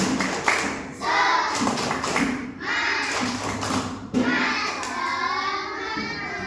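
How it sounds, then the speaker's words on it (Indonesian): A primary school class doing a rhythmic spirit clap in a classroom, many hands clapping in a patterned beat, loud and close, with children's voices mixed in throughout. "Jika semangat, kita tepuk semangat dulu"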